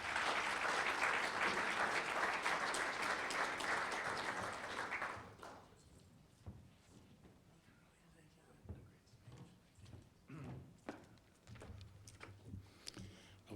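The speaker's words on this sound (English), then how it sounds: "Please join me in welcoming Tom Tauke." Loud, sustained crowd applause at a keynote address at the Aspen Forum 2010 fills the first five seconds, then fades into scattered claps, shuffling and faint murmurs.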